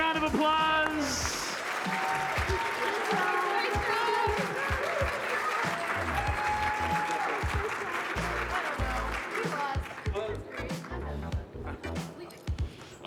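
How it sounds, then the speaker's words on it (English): Audience clapping and cheering in the PAX East 2022 Dragonfly Theatre after a team's win, a thick sustained wash of applause under a loud amplified announcer talking, tapering toward the end. "Give them a big round of applause."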